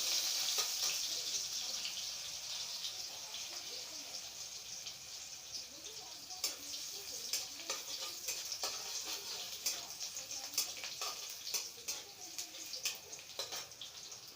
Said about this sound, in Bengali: পেঁয়াজটা হালকা ভাজা হয়ে গেলেই এতে কয়েক টুকরো টমেটো কুচি দিয়ে দেব।